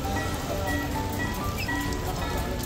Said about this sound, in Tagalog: Bumuhos na naman ang ulan at ang lakas pa.